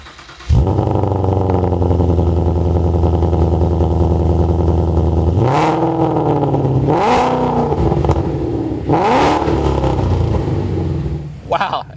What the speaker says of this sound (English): Wow, that is very loud, very aggressive sounding exhaust.